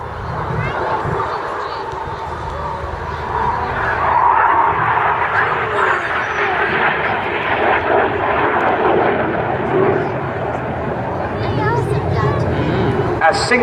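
Red Arrows jets fly an air show display at Sunderland, a sustained, rumbling engine roar swelling and shifting as they pass, with a commentator speaking over the noise throughout.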